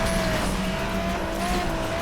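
Car drifting in Asphalt 8, a steady high tire squeal over a constant roaring engine, loud and close throughout without a break.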